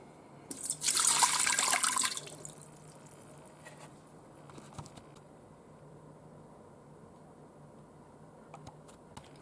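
One cup of water poured into a 6-quart Instant Pot Duo Evo Plus, a close, bright splashing pour for about two seconds, then faint drips and handling noises.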